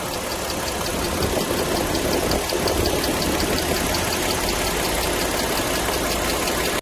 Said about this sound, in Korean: 소리만 들어도 엔진음이 튀는 그러한 증상이 있었던 차량이었습니다.